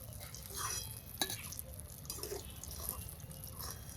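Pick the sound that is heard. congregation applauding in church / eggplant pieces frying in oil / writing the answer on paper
eggplant pieces frying in oil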